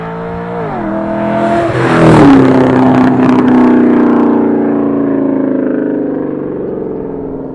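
A tuned 2009 C6 Corvette with about 410 wheel horsepower, full bolt-ons, headers, intake and a Billy Boat exhaust drives past loudly, its exhaust rising in pitch as it revs, then settling into a steady drone that slowly fades.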